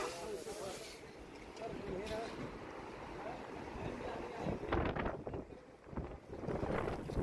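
Strong wind gusts roar in an open outdoor setting in Saudi Arabia ahead of a rare hailstorm, a steady loud rushing that swells and buffets the microphone near the end.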